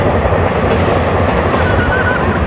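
A train rumbles past a cold spring with a loud, steady roar of wheels on rails, close by, a faint wheel squeal rising briefly near the end.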